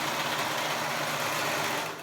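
A serger runs steadily while finishing the neckband of a small baby romper, a continuous close, even mechanical hum with no pauses over its short run.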